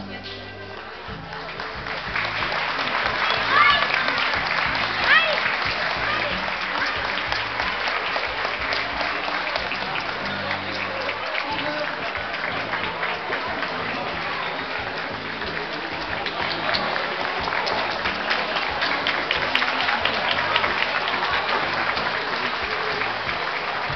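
Audience applause during a collective parade of prendas and peões at a Júlio de Castilhos traditionalist gaúcho centre, long steady clapping from a crowd that swells early and holds, with faint background sound underneath throughout.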